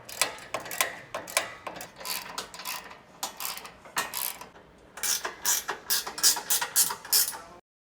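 Ratcheting on the bolts of a Toyota 4Runner gas tank skid plate, with bursts of quick clicking strokes, some pauses between them, and a denser run of ratchet clicks near the end, close by and moderately loud.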